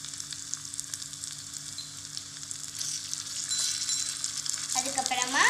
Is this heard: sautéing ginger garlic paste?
yes